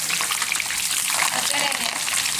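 Bangude mackerel frying in a pan with curry leaves gives a steady, close, even sizzle and crackle of hot oil, continuous throughout with no pauses.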